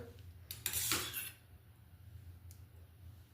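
A spoon stirring Kerala-style avial mixed with curd in a pot: one short scraping, clattering burst, then a single light clink against the metal, otherwise quiet.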